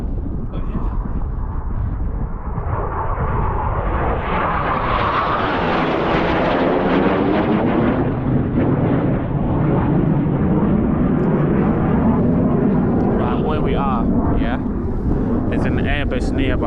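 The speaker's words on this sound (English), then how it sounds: "That's a jet fighter there." A military jet fighter passes overhead above the Yorkshire Dales near Ribblehead Viaduct, a loud sustained roar that swells and shifts in pitch as it flies by, with wind buffeting the microphone and people talking briefly underneath.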